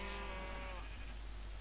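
A Minecraft sheep lets out a single bleat, a short wavering baa that fades after the first half, heard faintly over a low steady game background.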